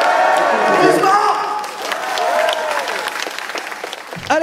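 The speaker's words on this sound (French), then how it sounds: "Applaudissements." Audience applause at a live French YouTuber show night, a dense, steady wash of many hands clapping with some crowd voices mixed in, fairly loud and close, tapering off near the end.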